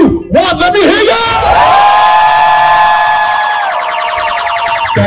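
A comedy show crowd at Calgary's first Blackfest erupts into loud cheering, with shouts and high whoops over a sustained roar of voices, close and continuous.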